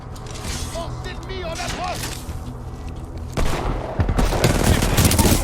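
Gunfire from an enemy infantry attack in Titanfall 2, a dense, loud fusillade of rapid shots and booms filling the scene, growing heavier toward the end, with game voice lines heard.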